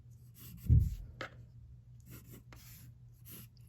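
A pencil sketches shapes such as ellipses and cylinders on paper, giving a few soft scratchy strokes, one louder stroke near the start and lighter rubbing afterward, close and quiet with no voice.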